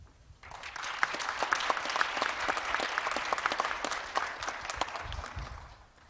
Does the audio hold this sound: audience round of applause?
yes